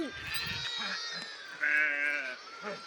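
Goats back from pasture bleat near and loud, one long prominent call standing out among quieter overlapping bleats in an outdoor pen.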